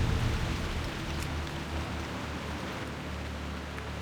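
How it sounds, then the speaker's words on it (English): Heavy rain pours steadily in the World of Warcraft game world, a dense, even hiss with a low rumble underneath, constant and close with no talking. "Geez, the rain is really coming down"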